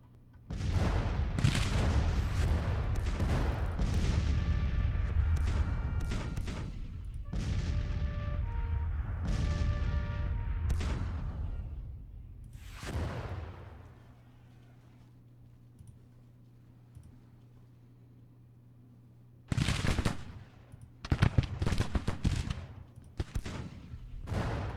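Cannon fire from a Civil War battle game: heavy booms fire in clustered volleys with sharp bursts and rumbling tails, then a quiet stretch before another close salvo of several shots.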